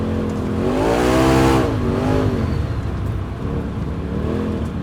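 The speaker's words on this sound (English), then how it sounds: "definitely a little more exhaust note, say to the ear, over the SP version" A 2020+ Polaris RZR Pro XP side-by-side fitted with an MBRP Performance Series muffler revs up with a deep, low exhaust note, swelling to a loud peak and easing back, then rising again, heard close and alone.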